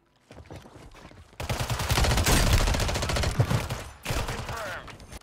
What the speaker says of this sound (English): I was laying down some cover fire.